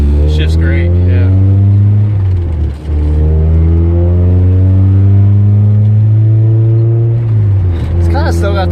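Car engine fitted with a euro transmission swap revs hard and loud, holding steady tones that climb, drop and climb again as it shifts through gears, with a brief dip between shifts and voices heard near the end.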